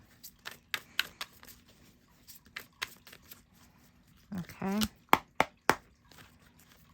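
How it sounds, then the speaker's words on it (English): Tarot cards being shuffled, heard as a series of sharp crisp snaps and riffling bursts spread across the moment, with a brief spoken word and faint talk in between. "I'll shuffle again."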